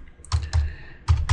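Keystrokes on a computer keyboard while a layer name is typed in Photoshop: three quick, close, distinct taps with short gaps between them.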